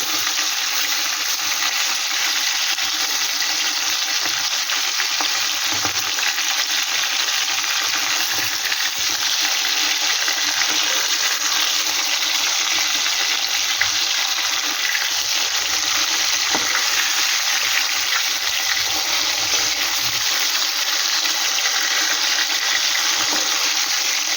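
Fish pieces fry in oil for a Bengali gurjali fish curry, a loud, continuous sizzling hiss throughout with no clear flipping sound.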